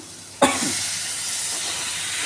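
Boiled pasta lands in a hot pan of capsicum, onion and carrot for Chinese-style pasta, setting off a sudden loud sizzle that settles into a steady close hiss.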